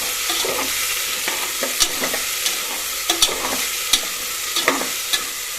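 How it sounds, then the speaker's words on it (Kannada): Sprouted chickpeas sizzle and fry in hot oil for sambar, with a spoon stirring and scraping the pan in irregular clicks and knocks, close by. "ಕಡಲೆಕಾಳು ಹಾಕಿದ್ದೀನಿ ಸ್ವಲ್ಪ ಫ್ರೈ ಮಾಡ್ಕೋಬೇಕು ಇದನ್ನು"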